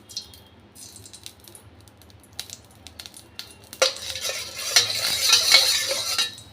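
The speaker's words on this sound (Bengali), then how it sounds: "ঘি দিয়ে আমি এর ভেতরে কটা কাজু একটু নেড়ে তুলে নিচ্ছি" Cashews are stirred in a little ghee in a kadai with soft scraping at first, then the frying swells into a steady, close sizzle.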